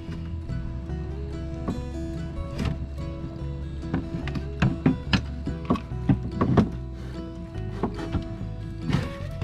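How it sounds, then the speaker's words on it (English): Mechanical clicking, knocking and ratcheting from the steering helm of a 1990 Gemini 3200 catamaran being turned to starboard as the rudder cable pulls through, irregular taps over a low hum. "turn the helm for me. Turn it to the starboard."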